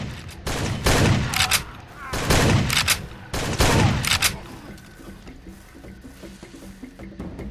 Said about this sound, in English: Somebody just took pot shots at me.